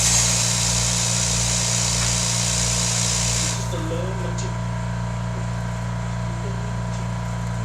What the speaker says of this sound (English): Excuse my compressor. Can't use a machine without one, unfortunately.